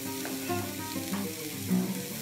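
Two finely chopped red onions sizzle steadily in hot olive oil in a frying pan, a soft, even frying hiss with light stirring and no talk.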